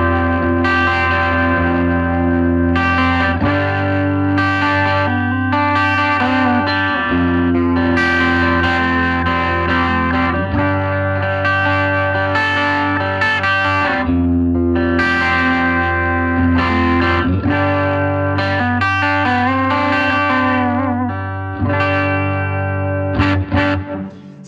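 Fiam Omerta electric guitar on its humbucker pickup with a clean tone, playing sustained ringing chords and notes that overlap in a continuous, full-bodied passage heard close and alone.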